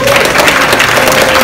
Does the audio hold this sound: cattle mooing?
no